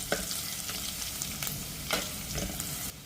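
Garlic and spices frying in hot oil in a pan for a Konkan mango raita, a steady close sizzle broken by several sharp stirring scrapes, with no talking.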